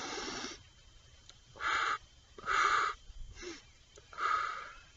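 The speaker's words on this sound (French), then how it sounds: "Vous pouvez le faire de manière beaucoup plus rapide" Rapid clavicular breathing through the nose and mouth, a series of four or five short, close, airy breaths with quiet gaps between them.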